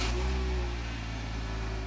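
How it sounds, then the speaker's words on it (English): A replacement engine in a 2011 Hyundai Tucson runs with a steady, low droning hum, even and unchanging throughout, heard alone at close range. "That's the sound of the second engine Rick Lingard had to pay to put into his 2011 Hyundai Tucson"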